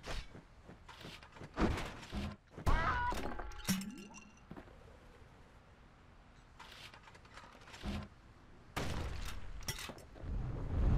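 Gunfire from the video game Bastion: several sharp, loud blasts and metallic clinks come in bursts with quieter stretches between them, and no one speaks.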